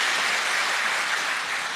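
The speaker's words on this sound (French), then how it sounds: "Félicitations, oui, on peut applaudir." Members of the national assembly applaud during an official address by the assembly president, a dense, steady wash of clapping that fills the whole moment without pause.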